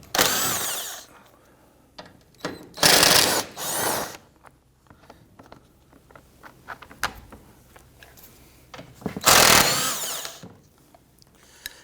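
Bolts are loosened and removed from the front lower engine splash shield of a 2011-2015 Kia Sorento with a power tool, making several loud, separate whirring bursts of the driver with quieter clicks and handling noises in between.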